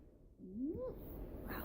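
A pet cat gives a single soft, rising meow indoors, faint and short, with no other sound around it.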